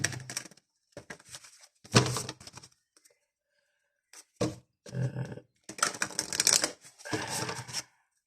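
A deck of cards is shuffled in several quick bursts separated by silences, crisp riffling flutters close by with no talk.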